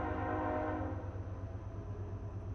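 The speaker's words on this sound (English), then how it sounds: "That's the train." A train rumbles past with its horn sounding in a steady low drone, carried by dense low rail rumble that fills the whole clip without any voices.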